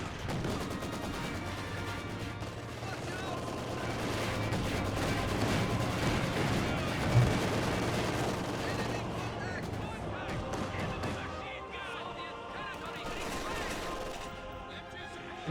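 Machine gun fire and battle noise from Company of Heroes 2, with a 222 armored car shredding a Maxim gun crew; dense continuous gunfire and explosions rumble under a commentator's voice throughout.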